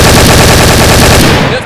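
A Winchester firing in the video game Garry's Mod: a loud, rapid stream of shots packed close together, heard up close and fading out at the very end.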